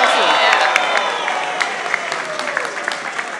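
A convention crowd at New York Comic Con applauds and cheers, a dense, steady wash of clapping with scattered whoops under a voice talking over it.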